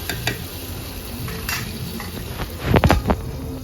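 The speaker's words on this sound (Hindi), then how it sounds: "भाई आपको ये सब्ज़ी की आवाज़ आ ही रही होगी, देखो कैसे बनने की, चूल्हे पे एक अलग ही आवाज़ है।" Onions and tomatoes sizzling and frying in a pan on a clay stove, a steady crackling hiss with occasional stirring scrapes and clinks near the end.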